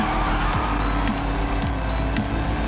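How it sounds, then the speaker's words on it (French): Car drifting in the racing video game Forza Horizon 5, with a steady loud engine roar and repeated tire squeals sweeping through the slide, no talk over it. "Mais je fais quand même de bons dérapages."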